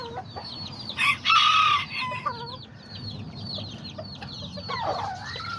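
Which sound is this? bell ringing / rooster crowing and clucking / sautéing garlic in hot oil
rooster crowing and clucking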